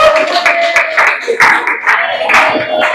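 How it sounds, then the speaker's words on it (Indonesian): Classroom applause for a student group, a burst of clapping that fills the room for a few seconds with mixed chatter over it. "tepuk tangan dulu buat kelompoknya"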